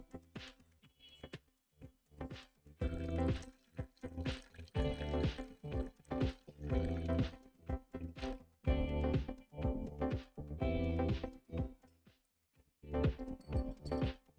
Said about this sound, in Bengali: তেঁতুলটা গুলিয়ে রেখেছিলাম সেটা ভালোভাবে চিনির সাথে মিক্স করে নেব এবং একটি কাপের মধ্যে সেটি ঢেলে দেব